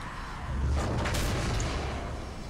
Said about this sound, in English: Threw the barrel and shotgunned it in the air